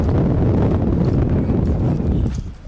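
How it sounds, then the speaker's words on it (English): Strong wind gusts blow steadily outdoors on a river during a fishing trip, a loud, constant low rumble buffeting the microphone with no clear pauses. "the wind just completely switched directions on us."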